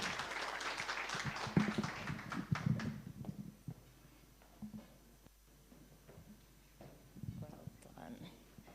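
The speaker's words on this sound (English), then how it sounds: "A warm round of applause as she comes onto the stage" Audience applause at a corporate launch event as a speaker walks onto the stage, a burst of clapping that fades after about three seconds, followed by quieter room sounds, footsteps and brief talk.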